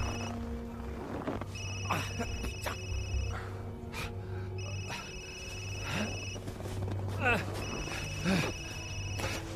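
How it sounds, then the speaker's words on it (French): A telephone rings in repeated bursts, its electronic tones recurring every couple of seconds over game sounds and a voice speaking French. "J'ai un téléphone qui sonne."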